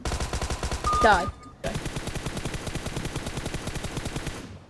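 A Tommy gun fires in PUBG Mobile in fast, close, loud automatic bursts with a brief pause partway through, and a player speaks a few words over it.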